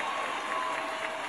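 Dense, steady applause from a crowd, a continuous wash of clapping at moderate level with no distinct individual claps or voices standing out.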